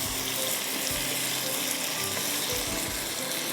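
Marinated chicken in yogurt and spices frying with onions, ginger and garlic in a hot pan makes a loud, close, continuous sizzle with crackles and faint stirring, with no talking.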